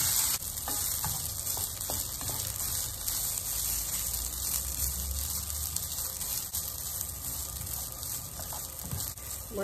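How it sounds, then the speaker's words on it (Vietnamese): Dry rice roasts in a pot for chicken and mung bean porridge, giving a continuous close sizzling hiss with occasional stirring scrapes and no talk. "Mình rang lên cho nó ráo gạo rồi."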